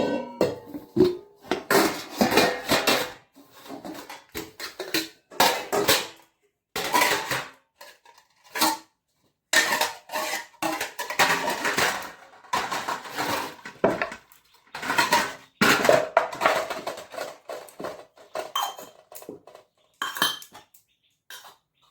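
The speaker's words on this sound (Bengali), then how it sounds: "বাসন, চাল মাখার গামলি সব, এগুলো এবার গুছিয়ে রাখি চলো" Metal dishes and a rice-mixing bowl being gathered and put away, with repeated clattering and clinking in irregular bursts separated by short pauses, close and fairly loud with no talking.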